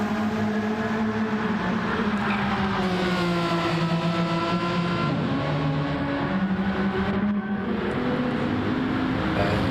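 GT4 race car engines roar continuously in a racing video game, several cars running close together with shifting engine pitch and slipstream drafting, loud and steady throughout with no talking.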